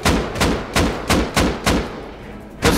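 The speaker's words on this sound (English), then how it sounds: "Are you shooting AK?" AK rifle fire in the game Rust comes as about seven loud, sharp shots in an uneven rhythm, each ending in a short fading tail, with no voices.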